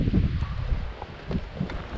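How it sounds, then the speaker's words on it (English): Wind buffets the microphone on a breezy day at Brantley Lake, giving low, gusty rumbles and soft rustling that continue throughout. "Kind of a breezy day at the lake today."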